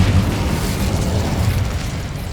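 A continuous roaring fire blast from the Incendio spell in Hogwarts Legacy, loud and dense, rumbling steadily for a couple of seconds without any talk.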